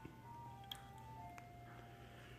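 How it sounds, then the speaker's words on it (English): A faint melody from an ice cream truck drifts in from outside, distant and thin, over a low steady background hum. "Don't mind the ice cream truck outside."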